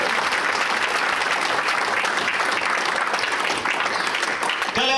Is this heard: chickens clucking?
no